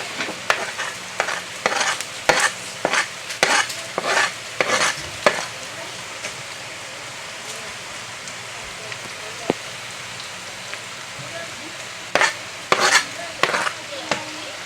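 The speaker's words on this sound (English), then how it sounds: "So I'm adding in my saltfish now." Saltfish sizzles in a pot with lentils while being stirred, giving quiet frying crackle broken by repeated sharp scraping strokes that come in bursts, then pause, then return near the end.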